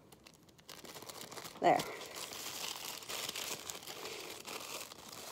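Packing tape being pulled from a roll and pressed onto a mail package, a short crinkly rip followed by steady rustling and crackling close by, with a brief spoken word.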